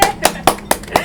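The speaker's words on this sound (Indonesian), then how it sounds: "Tepuk tangan." Hand claps in a coffee shop gathering, five sharp, evenly spaced claps close by, with faint voices between them.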